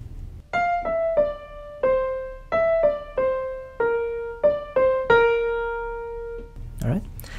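Keyboard melody of a song, played as a slow sequence of clear single notes, each ringing out, with the final note held long. A short breath or voice sound follows at the end.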